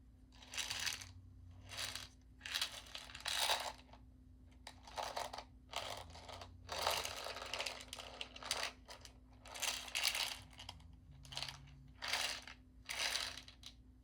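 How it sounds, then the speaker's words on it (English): Small buttons from thrift store and craft finds being handled and clattering, a series of bright, rattling bursts of clicks close by, repeating in irregular clumps with brief pauses between them, no voice. "I always like the way buttons sound."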